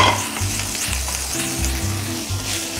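Tom yum fried rice stir-frying in a wok, with a steady close sizzle and rhythmic scraping and tossing strokes throughout; a low background hum runs beneath.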